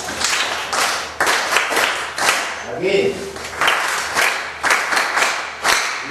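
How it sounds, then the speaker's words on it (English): Pupils in a Kenyan school science class clap for a classmate in rhythmic, loud bursts of applause that repeat several times, with voices heard between the claps. "Clap for her, please."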